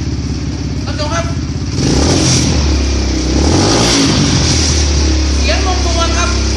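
A Kawasaki KLX 125 motorcycle idles with a loud, close, clattering putter, then gets revved up into a rising roar that falls back and swells again, while someone speaks over it.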